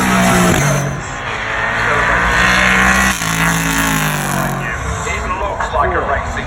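A Ligier race car climbs the hill at the Goodwood Festival of Speed in 2019. Its engine is loud and close, rising and falling with sharp gear changes and a rasping, revving note throughout.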